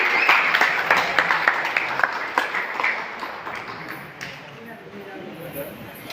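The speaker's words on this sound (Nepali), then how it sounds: "एकचोटि जोरदार ताली भगवान्जीको लगाउनको लागि।" A crowd applauds with scattered claps that fade out after a few seconds, leaving quiet room noise.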